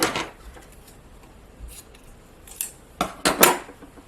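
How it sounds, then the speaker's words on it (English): Scissors snip through crochet yarn at the end of a twist headband, a few quick metallic clicks and short snipping bursts near the end, close and fairly quiet with no talking. "And then I can cut this yarn"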